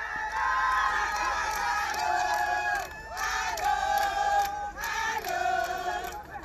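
A crowd of Ivorians at the consulate general in Jeddah cheers and shouts in a festive mood, with sustained overlapping voices and whoops that swell and dip in waves.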